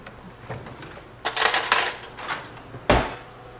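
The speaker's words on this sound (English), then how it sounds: "We're going to give that a stir" Someone stirs Salisbury steak and gravy in a crockpot slow cooker, with a spoon scraping and clanking against the pot in a few irregular bursts and a sharp knock near the end, close and moderately loud.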